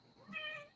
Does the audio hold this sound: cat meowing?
yes